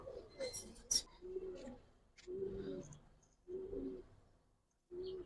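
Giribaz and Kaldom pigeons of an old breed coo softly in a series of low, rounded calls, about five separate phrases with quiet gaps, fairly faint and close.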